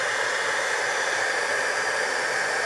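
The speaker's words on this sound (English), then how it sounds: "Make sure that you've got the powder over all of your image. We're going to heat that up." A heat tool blows steadily over embossing powder on a stamped card image, giving a continuous, even whooshing hiss with no breaks and no talk.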